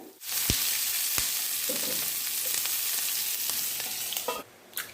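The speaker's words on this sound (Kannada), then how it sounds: "ಇದಕ್ಕೆ ಇವಾಗ ಕಟ್ ಮಾಡಿಟ್ಕೊಂಡಂಥ ಈರುಳ್ಳಿಯನ್ನು ಸೇರಿಸ್ತಾ ಇದ್ದೀನಿ" Chopped onions and potato sizzle loudly in a pan for a potato and onion omelette, a steady crackling fry broken by a few sharp stirring clicks and scrapes, with no talk.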